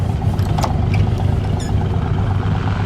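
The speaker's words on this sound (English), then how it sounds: "Let's listen to that idle." A 1972 Plymouth Duster with a 225 cubic-inch slant six idles steadily nearby, a low, even rumble running throughout with no talk.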